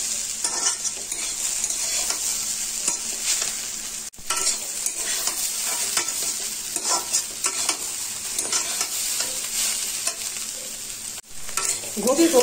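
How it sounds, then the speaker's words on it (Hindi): Cauliflower frying with spices over medium heat for a paratha filling gives a steady, close sizzle that runs throughout, with faint scraping of stirring mixed in. "गोभी को मसाले के साथ फ्राई कर लिए हैं।"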